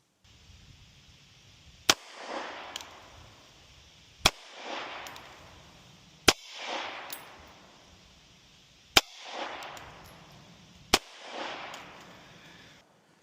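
Five sharp, loud 9mm pistol shots from an HK CC9 on a shooting range, each a hard crack followed by a brief echoing decay, spaced roughly two seconds apart, with no talking between them.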